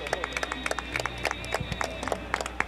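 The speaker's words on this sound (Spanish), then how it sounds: "Entréguele fuerte el aplauso" A small group claps in the winners' enclosure at a horse-race trophy ceremony, sharp, fairly regular claps over a low steady hum, with a voice faintly beneath.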